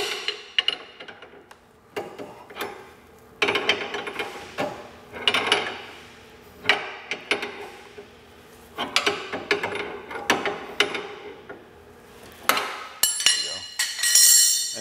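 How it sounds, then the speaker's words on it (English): Hand wrench turning a nylock nut against a jam nut while adjusting the outer seal of a hydraulic through-frame RV slide-out room; repeated short metallic clinks and ratcheting bursts come in uneven clusters, close by, with quiet gaps between. "hold the jam nut with a wrench and adjust the nylock nut until you get a proper outer seal"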